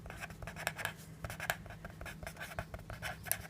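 Pen writing by hand on paper while a maths exercise is worked, quiet close scratching strokes in short irregular bursts.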